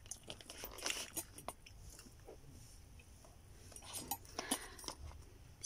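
Quiet close-up biting and chewing of food with olives, soft crunches and wet mouth sounds mixed with a few faint clinks of cutlery, no talking.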